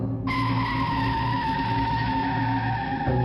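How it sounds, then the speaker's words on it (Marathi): An ambulance braking hard in the middle of a highway, a loud, sustained tire screech that holds steady for about three seconds before dropping off abruptly. "नितीनने हायवेच्या मधोमध गाडीला जोरात ब्रेक लावला."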